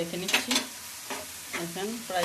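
Cabbage frying in a pan is stirred with a spatula, giving a steady sizzle broken by several short scraping stirs, close and clear, with no one talking.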